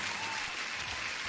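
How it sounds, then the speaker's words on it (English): A short burst of dense crowd applause, steady and loud throughout with no gaps. "You deserve the applause."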